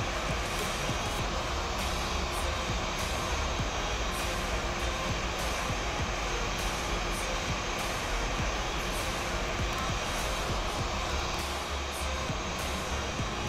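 An Airbus A320 engine starting in a flight simulator: a steady, loud broadband roar with a faint rhythmic pulsing on top, continuous and unchanging throughout, with no talking.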